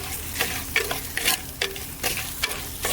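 Tamarind-spice marinade with garlic and ginger frying in an unglazed clay pot over a simmering flame, a steady close sizzle broken by the scrape and clack of stirring at irregular moments.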